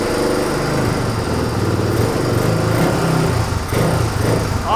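A dirt bike engine with a leaking carburetor runs on choke while warming up, a loud close buzzing drone whose revs rise and fall unevenly throughout, with no talk.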